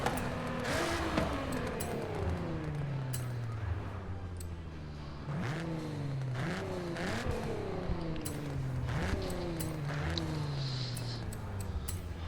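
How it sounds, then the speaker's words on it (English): Nissan Z Nismo with an upgraded exhaust in a racing video game, the engine revving hard through repeated rising gear pulls and shifts, loud and continuous with faint tire noise. "As you can hear with the new exhaust, it sounds really nice"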